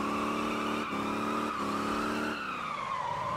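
A car drifting in the driving game Motor Town, its engine note droning steadily with brief tire-squeal breaks as it slides, then easing off near the end; no talking.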